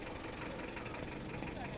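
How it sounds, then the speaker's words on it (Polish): A steady low engine rumble idles throughout in the Peruvian mountains near Palccoyo, with voices faintly mixed in the background. "Wyłącz ten silnik. Wyłącz ten silnik"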